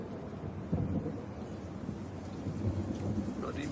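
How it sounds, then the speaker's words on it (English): Steady rain falls outdoors in the hills, a dense soft hiss with low rumbling underneath, continuous and moderately quiet throughout. "Bloody rain."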